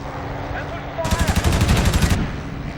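Aircraft guns firing in IL-2 Sturmovik, a short rapid burst of about a dozen evenly spaced shots over a steady engine drone.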